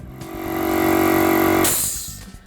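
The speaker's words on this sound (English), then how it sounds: "That release of air that we just heard was the pump unloading the built-up air within the system" A steady mechanical hum from an air compressor pump runs for a moment, then a sharp hiss of air bursts out as the pump unloads built-up air and quickly fades away.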